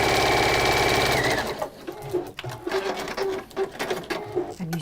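A Juki sewing machine stitches fabric in a fast steady run for over a second, then stops and gives way to softer mechanical clicks and handling noises nearby.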